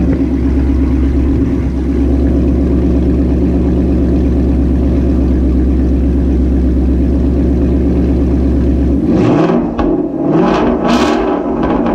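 A 2017 Ford Mustang GT with a Corsa Extreme catback exhaust idles with a steady low exhaust drone, then revs up and down in several sharp, loud bursts near the end.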